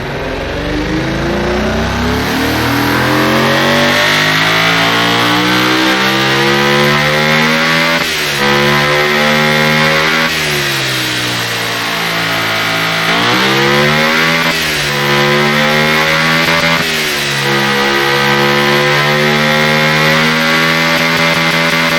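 A V12 engine with a high-lift cam profile in the Automation game revs loudly and continuously, its pitch climbing and dipping repeatedly as the throttle is blipped, with no talk over it.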